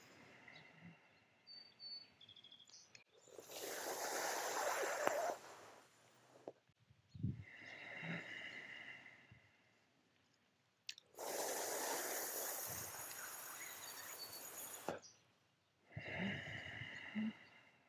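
Loud breathy inhales drawn in through the mouth during a yoga cooling breath exercise, four long hissing breaths with quieter pauses between them, close to the microphone.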